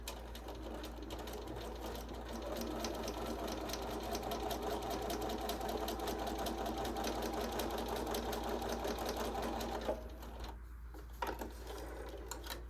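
A sewing machine runs a stay stitch with no backstitch, sewn along a seam while an exposed zipper goes into a garment. It gives a steady, close, rapid whirring rhythm that barely pauses near the end.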